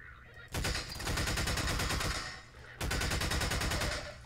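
Rapid automatic gunfire in the Half-Life 2 video game, two long sustained bursts of fast, evenly spaced shots, loud and close, separated by a short pause.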